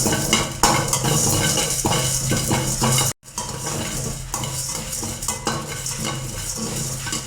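Cumin and black pepper dry-roast together in a pan, stirred continuously with metal scraping and rattling against the pan, loud and close, with a brief break partway through and no talk.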